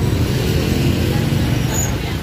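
A Bagong intercity bus running from Surabaya toward Trenggalek idles and rumbles briefly amid roadway traffic noise and a faint crowd murmur.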